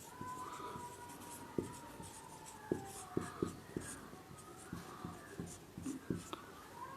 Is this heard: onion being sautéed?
no